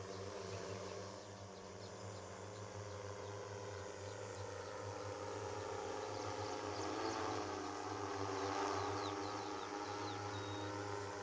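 Drone in flight, a steady, droning propeller hum with tonal buzzing, moderately loud and continuous throughout with no voices.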